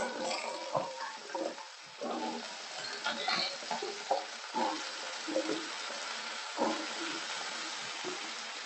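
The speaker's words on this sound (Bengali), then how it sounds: "পেঁপে আলু যেটা আমি কেটে রেখে দিয়েছি তেলের মধ্যে দিয়ে দিচ্ছি।" Chopped papaya and potatoes frying in oil in a pan, giving a steady crackling sizzle with repeated stirring scrapes and clatters close up, and no talking.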